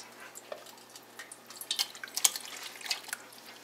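Liquid pouring into the side of a large bowl while making homemade applesauce, heard as faint, irregular splashing and dripping that grows busier toward the middle, with no talking.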